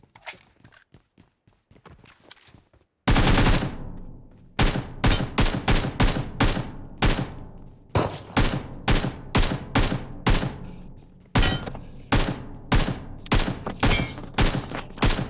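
Gunfire in a PUBG Mobile firefight: loud, close bursts of rapid shots in repeated rhythmic volleys after a few quieter scattered shots, with no voices heard.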